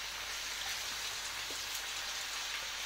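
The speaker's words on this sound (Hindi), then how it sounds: "अभी हम ये जुकनी को थोड़ा सा पैन में ऑयल डालते हैं, तो हम इसको थोड़ा थोड़ा फ्राई कर लेंगे" Zucchini frying in oil in a pan, a dense, even sizzle like steady rain, close and unbroken with no voices.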